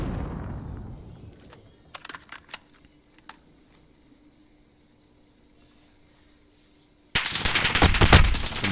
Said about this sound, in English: shooting above the wall there